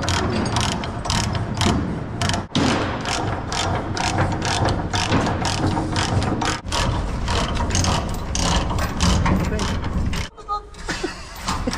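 Chain binder ratchet cranked to tighten a chain, with rapid, steady, close clicking that runs almost continuously for about ten seconds, pausing briefly now and then, while people talk.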